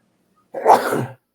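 A single sneeze, close and abrupt, in otherwise quiet surroundings.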